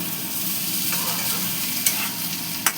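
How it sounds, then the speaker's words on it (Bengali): Diced potatoes in a pan being stirred together with spices while they fry for muri ghonto, a steady sizzle with a couple of sharp utensil clicks near the end, close and without talk. "আলুটার সাথে এবার ভালো করে মশলা দিয়ে মিশিয়ে নেব"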